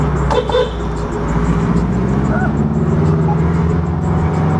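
A McLaren MP4-12C sports car pulls out on a street in Huntington, Long Island, its engine giving a loud, close, steady rumble over general traffic noise.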